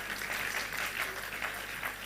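An audience at a Labour Party political event claps continuously in a dense, steady applause that fills the space, without talk over it.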